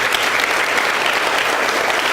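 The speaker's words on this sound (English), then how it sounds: "Let's just give a round of applause, obviously, to Principal Davis," A room of school students applauding their principal and teachers: dense, loud, continuous clapping with no gaps.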